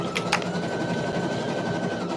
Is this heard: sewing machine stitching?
yes